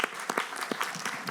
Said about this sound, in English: Maybe a round of applause for these guys.